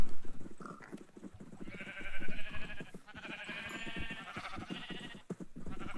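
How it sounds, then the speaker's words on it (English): Sheep bleat repeatedly in a farming video game, several overlapping close bleats over a busy background of clicks and game sounds. "Feed our sheep."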